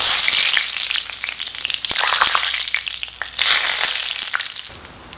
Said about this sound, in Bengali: এবার ফোড়নের জন্য দিচ্ছি 2টো শুকনো লঙ্কা, একটা তেজপাতা, কিছু গোটা গরম মশলা।